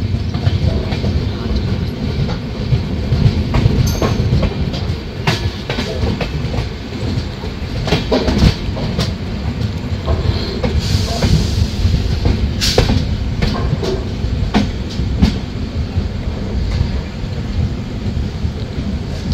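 Mithila Express 2AC coach rolling on the rails at night on its way to Jhajha, a steady loud rumble of wheels with recurring clacks and knocks throughout, close and continuous.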